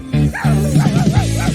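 A robot dog toy called Doggy lets out a run of electronic barks and yips: a couple of sustained tones, then four or five quick rising-and-falling yaps, loud and close.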